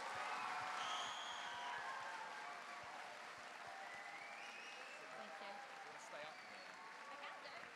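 Audience applause at a school House Music competition, a fairly faint, dense patter of clapping from a hall crowd, with voices talking over it throughout.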